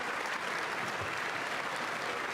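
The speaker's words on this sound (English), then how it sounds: "there's the First Lady there getting a round of applause as she makes her way in" A large audience at the State of the Union gives dense, sustained applause as the First Lady, Melania Trump, enters the chamber, a steady wash of clapping throughout.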